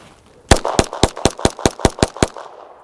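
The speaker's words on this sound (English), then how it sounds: "So let's go shoot." Nine evenly spaced pistol shots from a Glock fitted with a Tyrant Designs T Comp compensator, firing cheap 115-grain ball ammunition. The cracks come loud and close together in a quick string, with no talking.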